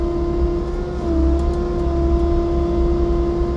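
A Bobcat T66 diesel track loader with a snowblower attachment runs steadily as it turns around in deep snow, a loud, constant engine drone with a strong tonal hum and a slight swell in revs partway through.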